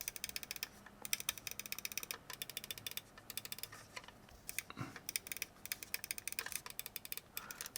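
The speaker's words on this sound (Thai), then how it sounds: "เดี๋ยวมาฟังเสียงการคลิกนิดนึงครับ" Pulsar X2N Crazylight gaming mouse switches clicked over and over, a quick, uneven series of crisp, close, dry clicks with no talking.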